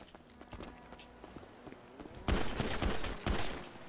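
Gunfire in a 2v2 arena shooter match, faint scattered shots and footsteps giving way to a close, loud volley of rapid bursts near the end.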